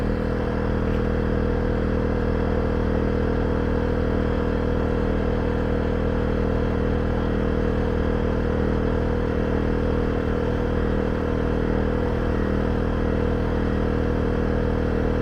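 Erayak 4500PD dual fuel generator running, heard from a distance of several dozen feet as a steady, loud engine drone and hum that stays constant throughout.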